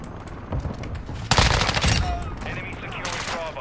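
Enemy gunfire in a Modern Warfare 2 multiplayer match, a dense burst of rapid shots swelling loud and close for about half a second amid continuous game noise, with lighter firing and effects trailing after.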